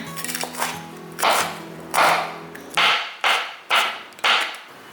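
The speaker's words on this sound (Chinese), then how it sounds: "要切成丁，先对半切。" A knife chops through a green bell pepper on a cutting board, a series of six or so sharp, close, loud crisp cuts at uneven intervals with no talk.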